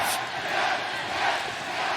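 Wrestling arena crowd in Spokane at a televised match, a broad, steady roar of cheering and shouting that holds at even loudness throughout.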